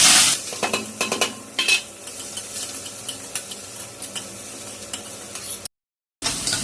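Onion, curry leaves and green chilli fry for khichdi, a close sizzle broken by repeated spoon stirring and clinks against the pan, then a brief cut to silence near the end.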